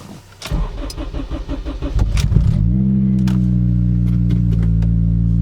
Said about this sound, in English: right now I have almost entirely E85 in the car right now, and I want to show you guys the cold start